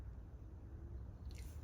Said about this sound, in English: so I'm gonna pour slightly under 4 as well.